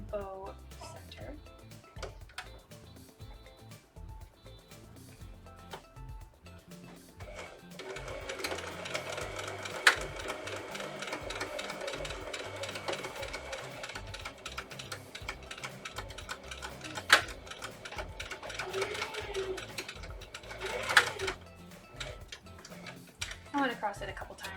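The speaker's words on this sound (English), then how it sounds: "We're going to sew right across that bow center." A sewing machine stitches across the center of a fabric bow at stitch length 2, running in quick rhythmic bursts, close and fairly quiet, with brief pauses and faint clicks between runs.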